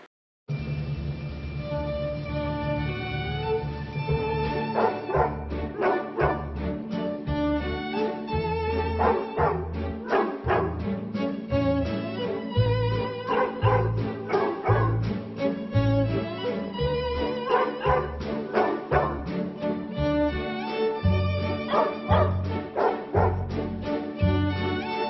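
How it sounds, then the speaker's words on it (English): A small dog named Roxy barks and yips over continuous music, with a rapid, steady run of sharp, high yaps through the whole stretch. "My precious dog"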